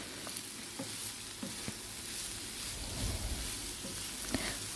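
Radish stir fry seasoned with chili powder being stirred in a pan, giving a soft, steady sizzle with faint scraping and a few light clicks of the spatula, no talking.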